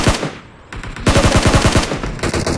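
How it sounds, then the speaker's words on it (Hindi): Rapid automatic gunfire from a shooting video game, bursts of repeated shots at close range with a brief pause, then a sustained volley and a few more shots at the end. "यहाँ पे मतलब पीछे से फायरिंग आ गई थी"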